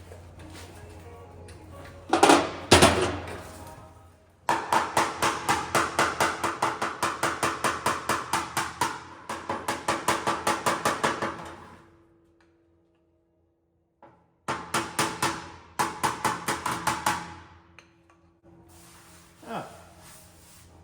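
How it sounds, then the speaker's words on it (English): Repeated hammer blows on the steel fender of a Peterbilt 359 truck under restoration, coming in long rapid rhythmic runs of sharp metallic strikes with brief pauses between bursts, loud and close. "I'll get one of my hammers that isn't broken."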